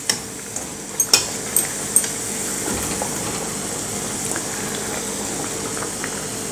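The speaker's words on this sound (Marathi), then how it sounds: "आता आपण दुसऱ्या बाजूने तळून घेऊयात" Vegetable koshimbir vadas deep fry in hot oil, a steady close bubbling sizzle with a few sharp clinks and spatters early on, then settling into an even hiss with no talking.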